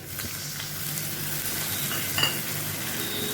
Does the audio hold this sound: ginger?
yes